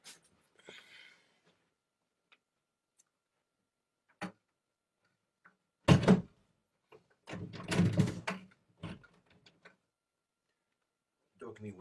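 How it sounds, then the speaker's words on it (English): A door thumps open or shut indoors in a couple of sharp knocks, with a person talking nearby between quiet gaps. "Door can be weird sometimes."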